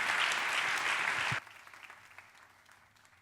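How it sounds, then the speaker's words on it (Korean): Church audience applause welcoming a speaker to the stage, a dense burst of clapping that cuts off sharply after about a second and a half, leaving faint scattered claps and a quiet room. "큰 박수로 환영해 주시면 감사하겠습니다"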